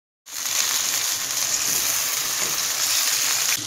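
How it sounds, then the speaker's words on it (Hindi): Chicken fries with onions in a hot pan, a loud, continuous close sizzle that starts abruptly and holds steady throughout, with no voices. "सारा चिकन हम इसमें ऐड कर देंगे और इस चिकन को फ्राई कर लेंगे प्याज के साथ"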